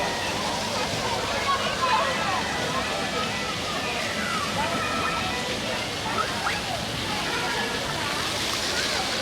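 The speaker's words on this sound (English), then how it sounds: "So the water shoots up through the holes. The kids then stand and get sprayed by the water." Water jets spray up through holes in the ground at a children's splash play area, a steady hissing, splattering wash that carries on evenly throughout at moderate distance.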